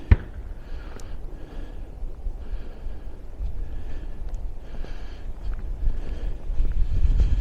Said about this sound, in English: It is actually getting a little breezy now.